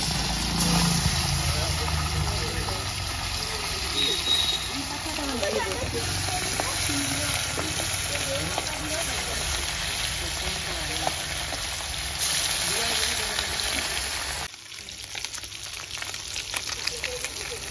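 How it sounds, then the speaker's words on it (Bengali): Katla fish pieces fry in hot oil with a dense, continuous close sizzle and hiss, with occasional soft scrapes. It runs steadily before dropping abruptly near the end to a quieter, uneven crackle. "তেলটা গরম হয়ে গেছে, আমি মাছগুলো একে একে ছেড়ে নিচ্ছি।"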